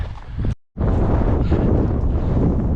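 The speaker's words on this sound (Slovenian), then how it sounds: "Piha za zmort" Strong wind buffets the microphone high on Pico Viejo volcano in Tenerife, a loud continuous roar with one brief dropout near the start.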